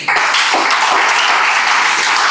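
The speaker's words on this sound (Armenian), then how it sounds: "եկեք Աստծուն ծափարենք" Loud, dense applause from a church congregation, a continuous wash of many hands clapping close by with no talk over it.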